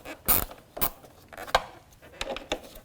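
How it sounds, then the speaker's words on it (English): A hand ratchet snugs down the plastic-housed high-mount third brake light on a 2007-2014 Cadillac Escalade, giving a few short, separate clicking bursts with brief gaps, close and moderately loud, with no talking. "I'm going to use a hand ratchet to tighten this."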